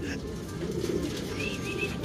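Pet pigeons coo softly in a loft, low murmuring calls blending with a few faint chirps in steady background noise, with no clear talking.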